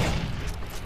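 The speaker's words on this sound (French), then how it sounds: "C'est quoi cette explosion là?" A loud, dense blast rumbles through the Far Cry 4 video game, a heavy low boom with continuous gunfire-like crackle running the whole moment, close and full with no voices.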